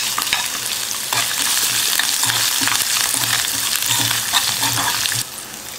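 Cashews frying in hot oil with pepper, ginger and curry leaves as a tempering for samai pongal, a loud, close, continuous sizzle with crackles that drops off abruptly near the end.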